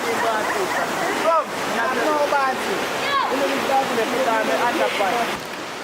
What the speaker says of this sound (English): I don't know how them are gonna deal with the sounds from the river.